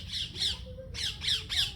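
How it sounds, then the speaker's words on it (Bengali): A bird squawks in a rural setting, two quick pairs of harsh, raspy calls separated by a short pause, fairly close and clear, with no talking. "কে পাখি ডাকতেছে?"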